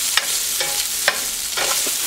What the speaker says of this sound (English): keep it stirring.